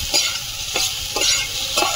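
Chopped onion, green chili and raw tomato sizzle steadily in hot oil, with a few soft stirring scrapes of the spoon through the pan, close and fairly loud, no voices.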